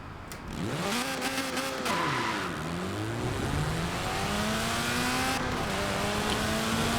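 Tiny upgraded Fiat X1/9 engine in Forza Horizon 4, revving and accelerating loudly through repeated gear changes, pitch climbing and dropping over several shifts without any talk.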